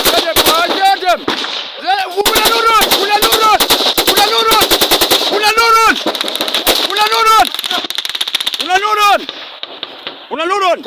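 Loud, sustained bursts of machine gun fire, rapid rattling volleys with brief gaps between them, close by and dominating throughout. Whistling, wailing tones and some voices can be heard among the shots.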